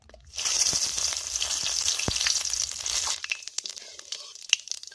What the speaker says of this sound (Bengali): কড়াইয়ে তেল রয়েছে এই তেলেই দিয়ে দিচ্ছি দুটো শুকনো লঙ্কা দুটো তেজপাতা আর গোটা জিরে